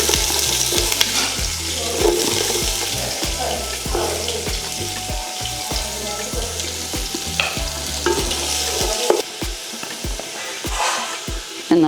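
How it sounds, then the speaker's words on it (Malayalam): Onion sizzles in hot oil in a pan while fried rice is being cooked at home, a continuous crackling fry punctuated by repeated knocks and scrapes of a stirring spoon against the pan. "എണ്ണ ചൂടായി. അതിനകത്തോട്ട് നമുക്ക് ഈ ഉള്ളി ഇട്ട് കൊടുക്കാം."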